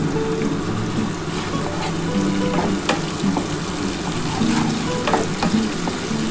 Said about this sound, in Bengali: আমি চিনি দিয়ে পেঁয়াজটাকে ভাজছি